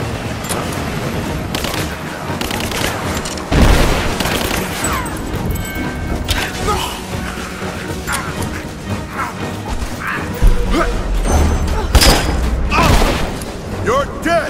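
Covering gunfire in Rise of the Tomb Raider, rapid cracking shots and sharp impacts in irregular bursts with occasional heavy booms, fairly loud and close throughout, with shouted voices mixed into the chaos.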